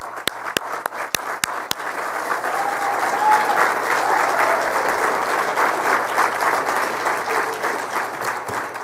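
At the Coverings 2014 trade show ceremony honoring past Tile Person of the Year and Ring of Honor recipients, a few sharp single claps start things off, then a standing audience swells into full, sustained applause.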